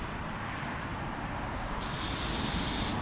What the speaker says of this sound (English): And you can see it's spraying perfect.